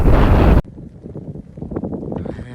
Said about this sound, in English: It's a bit windy. You can hear.